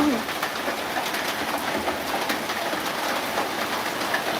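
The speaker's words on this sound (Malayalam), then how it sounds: "നല്ല മഴയാണ് കേട്ടോ" Heavy rain falls steadily in Malappuram, a dense, continuous hiss of drops on surfaces that stays even throughout, with no voices.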